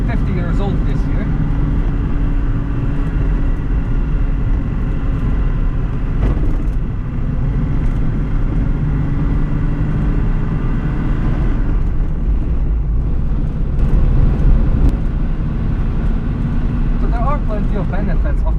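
An early mid-1970s Reliant Kitten economy car, an unfinished project, driving through Edinburgh. Its low engine rumble and road noise run steadily throughout, heard from inside the car, with someone talking over it.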